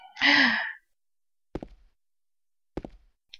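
A character in the video game Silent Hill 2 lets out a short breathy gasp, followed by two isolated knocking thuds spaced apart in otherwise quiet surroundings.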